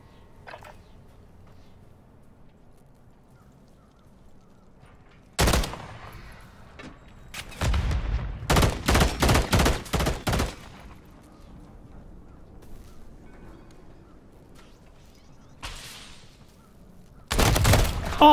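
Gunfire in the video game Rust: a single loud shot, then a rapid cluster of close, sharp bursts, and another loud burst near the end, separated by quiet stretches.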